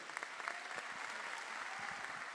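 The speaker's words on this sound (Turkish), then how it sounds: "Onları yürekten alkışlamanızı istiyorum." An audience at a political speech in Turkey breaks into steady, dense applause, heard from a distance with a wash of many hands clapping and no talk over it.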